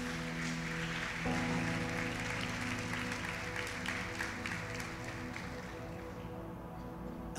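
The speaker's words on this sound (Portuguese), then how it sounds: "Aplauda ao Senhor Jesus" A church congregation claps together in a sustained wash of applause, with organ or keyboard tones sounding beneath and the clapping slowly easing toward the end.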